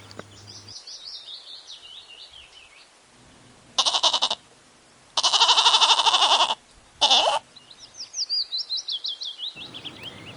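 Three loud goat bleats, the middle one long and wavering, come through close to the listener. Birds chirp continuously in the background.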